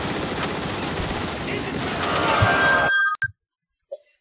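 Rapid turret fire from the video game Transformers: War for Cybertron, a dense continuous burst of shots lasting about three seconds, then cutting off into near silence with a couple of brief electronic blips.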